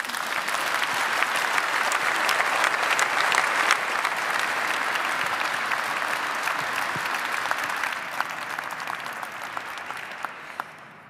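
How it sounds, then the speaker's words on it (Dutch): Warm applause from an audience at a Utrecht University Dies Natalis ceremony, a sustained wash of clapping that slowly thins and fades toward the end. "En voor nu geef haar nogmaals een warm applaus."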